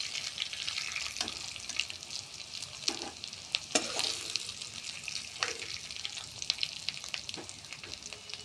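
Dal fritters (dal bora) fry in hot oil, a soft continuous sizzle broken by scattered clinks and scraping as they are turned and lifted, fairly quiet, with no talking.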